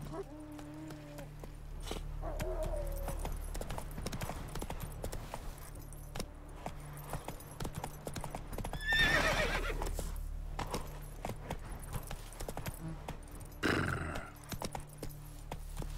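The horse in The Witcher 3: Wild Hunt next-gen gameplay trots with clip-clop hoofbeats and jangling tack, gives a clear whinny partway through, then a snort or second call near the end, all over low game ambience.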